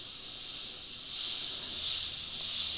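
An airbrush sprays a steady, loud hiss of air that swells slightly partway through and keeps going without a break, with no voices.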